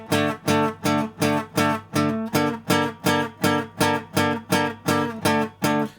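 Acoustic guitar chords strummed openly without palm muting, about a dozen evenly spaced rhythmic strums in a hip hop pattern, each ringing full and bright before the next, close and alone.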